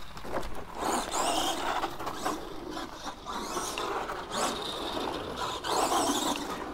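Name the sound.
Arrma Gorgon 1/10 RC monster truck driving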